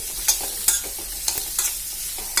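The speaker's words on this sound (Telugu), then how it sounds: "క్యారెట్ ముక్కలు అయితే మొత్తం వేసుకున్న తర్వాత మంచిగా కలిపేసుకోవాలి" Carrot pieces with onions are stirred in a frying pan for a carrot and green chilli fry. A spatula makes distinct scraping strokes about every half second over a soft background sizzle, and no one speaks.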